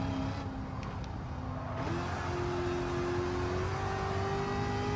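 Corvette C7 ZR1 engine in the racing game Gran Turismo 7 during a time trial, a continuous droning engine note whose pitch climbs steadily as it revs up, with no talk.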